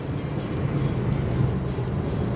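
A car with a tuned ECU and piggyback module at around 180 km/h on a highway test drive, heard from inside as a loud, steady engine and road roar without breaks.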